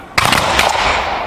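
Muskets fire in a single loud, ragged volley at an English Civil War reenactment, several shots merging into one sharp crack followed by a sustained rumbling echo.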